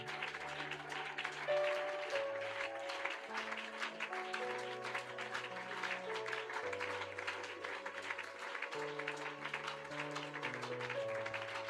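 A church worship congregation cheers and claps steadily over sustained keyboard chords, the crowd noise dense and continuous throughout.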